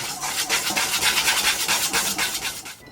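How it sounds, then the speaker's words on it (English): Dry flour, baking soda and salt whisked together in a medium-sized bowl for cookie dough, a steady rapid scratchy rasping of the whisk against the bowl with quick rhythmic strokes, close and fairly loud, no talking. "we're just going to whisk this until it is nice and combined."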